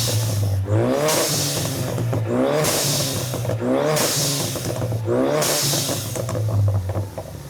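A Ford Mustang EcoBoost turbo engine runs and revs close by, with repeated rising surges about every second over a steady rumbling idle.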